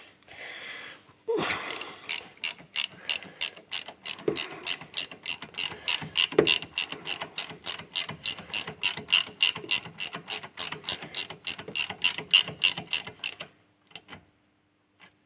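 A ratchet tightening a bolt on a Peugeot 205, clicking rapidly and evenly in a long run of crisp, close pawl ticks that stops abruptly near the end.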